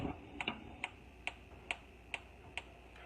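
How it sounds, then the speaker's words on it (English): Sharp, evenly spaced clicks repeat about twice a second, quiet and close, from a gas stove igniter sparking. "And I am going to turn on my fire here."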